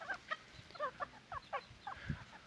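Young İspenç five-toe Gülibik chickens and roosters cluck in short, scattered bursts, faint and somewhat distant over a low background hum, with no talk.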